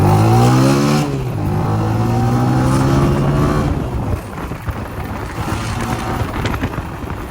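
A motorcycle engine revs up, then settles into a steady riding drone that is close, loud and buried in blustery wind noise.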